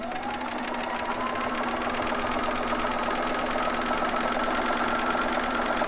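Sewing machine running steadily while stitching down a strap on a newborn romper, a fast continuous mechanical whir with rapid needle clatter throughout, close and alone.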